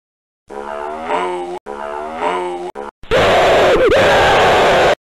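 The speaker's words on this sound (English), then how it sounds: "Why are you screaming like that?" A cartoon child screams in fright at a cow. Two long, strained, wavering cries are followed by a shrill, piercing scream.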